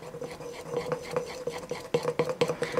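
A spoon stirs date cake batter with flour and cardamom powder in a bowl, giving a quick series of scraping, tapping strokes, close and fairly loud with no talking.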